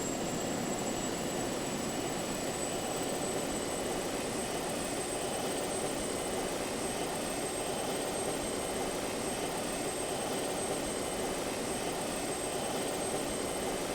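An aircraft engine roars steadily through a takeoff in a video game, a dense, constant drone with a thin high whine that holds at the same level for the whole stretch and has no talking over it.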